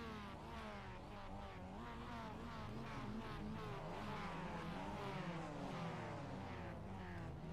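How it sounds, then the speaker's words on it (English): Mazda MX-5 race cars revving on the grid at Oran Park Raceway in an iRacing sim race, several engines droning and rising and falling together in a steady, fairly faint roar with no talk. "Drivers getting ready, revving their cars up."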